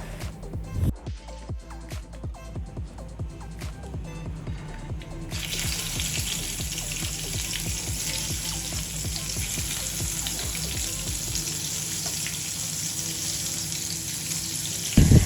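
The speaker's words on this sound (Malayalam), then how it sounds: "നമ്മൾ നേരത്തെ മാരിനേറ്റ് ചെയ്ത് വെച്ചിട്ടുണ്ടായിരുന്ന വഴുതനങ്ങയുടെ പീസ് നമുക്കൊന്ന് ഫ്രൈ ചെയ്തെടുക്കാം" Marinated brinjal (eggplant) pieces frying in oil give a steady, close sizzle and crackle, with a broad hiss that thickens partway through and runs on continuously to the end.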